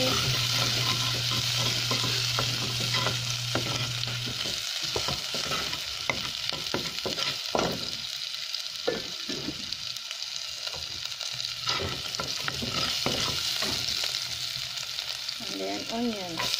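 Garlic sizzles in a pan for ginataang monggo while a utensil stirs it, with repeated scraping and clattering strokes over a continuous close frying hiss for about seventeen seconds.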